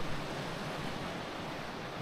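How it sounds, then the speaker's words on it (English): Minaret Creek on the John Muir Trail rushes past a campsite in a steady, close, unbroken wash of flowing water. "This is Minaret Creek. This will be my water for the night."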